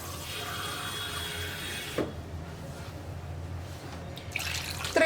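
Water is poured from a cup into a pot of drumstick and prawn masala curry, a steady close splashing hiss for about two seconds that then stops, leaving quiet kitchen background.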